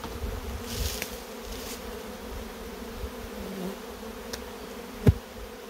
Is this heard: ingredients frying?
no